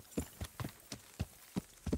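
Horse hooves clip-clopping in the medieval game Kingdom Come: Deliverance, six distinct, evenly spaced hoofbeats at a walking pace, moderately close and alone without talk.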